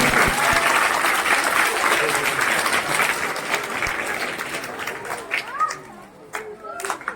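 Schoolchildren at a school entry festival applaud in a loud, dense burst of clapping that slowly thins and fades, with scattered shouts and chatter over the top.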